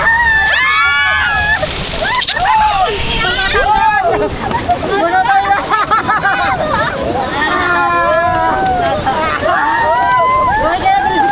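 Cold water sloshes and splashes over a child's head outdoors, with excited children's voices shouting and chattering close by throughout.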